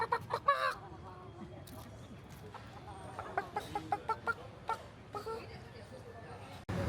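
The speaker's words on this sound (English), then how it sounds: "there's even a rooster running around in this place" A rooster roaming free in Singapore clucks softly in short bursts against a faint outdoor background, with low voices talking nearby.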